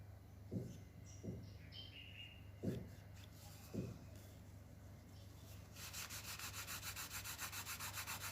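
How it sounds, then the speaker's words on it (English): An old cotton towel is rubbed over leather to burnish a wallet, giving a few soft, separate strokes at first, then a fast, steady run of rhythmic rubbing, faint and close over light background noise. "I'm using a piece of toweling, old towel to burnish it with."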